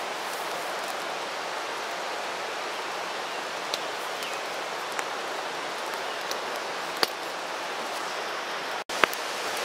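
Steady rain falls over a hammock camp by a river, a dense even hiss throughout with a few faint ticks of drops, and no voices.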